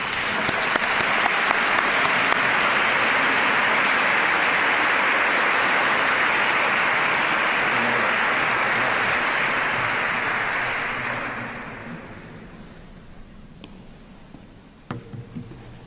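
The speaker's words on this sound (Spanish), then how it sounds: "vamos a recibirle con un fuerte aplauso." A large audience at a religious conference bursts into loud, sustained applause to welcome a speaker. The clapping stays dense and steady for about ten seconds, then fades out, leaving quiet room noise and a few scattered sounds.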